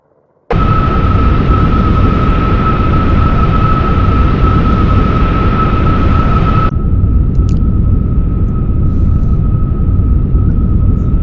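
Steady loud roar with a sustained tonal whine from an F-35B jet engine in the X-Plane 12 flight simulator, continuous and alone, dropping in brightness partway through but holding on to the end.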